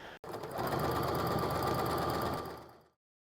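Sewing machine running steadily for a few seconds while stitching quilt block pieces together, a close, even mechanical whir that winds down at the end.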